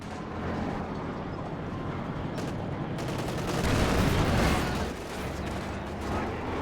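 Machine gun fire in a strategy video game 1v1 match, dense gunfire and battle noise crackling continuously, swelling louder midway before easing off slightly.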